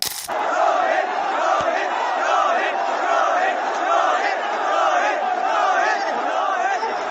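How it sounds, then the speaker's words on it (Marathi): A massive cricket stadium crowd chants a player's name during the toss, a loud, continuous roar of repeated rhythmic cries from thousands of voices filling the whole stretch. "लाखोंच्या गर्दीतून रोहित रोहित असा आवाज येत होता"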